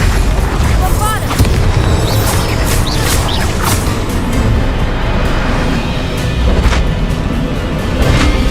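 Booming Bombarda explosion spells blast in a Hogwarts Legacy battle, several loud bursts in a dense wash of combat noise and whooshing effects, with a voice calling out spells at times.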